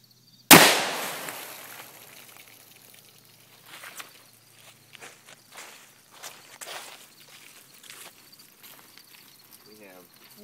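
One loud, sharp shot from an AMT AutoMag III pistol with a 6-inch barrel, firing a 110-grain .30 Carbine Speer Gold Dot soft point into water jugs outdoors, followed by quiet footsteps and rustling.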